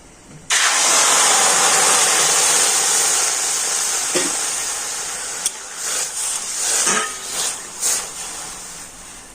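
Water poured into a hot dry pan of lightly roasted jackfruit seeds hits with a sudden loud sizzle and hiss that fades slowly over several seconds, with faint clinks near the end.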